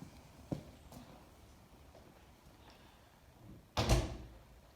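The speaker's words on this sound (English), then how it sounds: "This is the official entrance door." The entrance door of a house in Puglia, with a couple of faint knocks early on and then one sharp, louder thud of the door near the end, against a quiet room.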